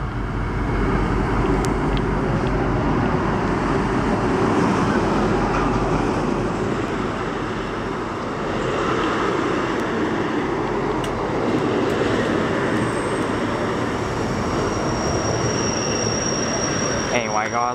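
A V/Line train hauled by an N class diesel locomotive rumbles steadily past at close range in Benalla, Victoria, its loud broadband roar holding for the whole stretch without a break.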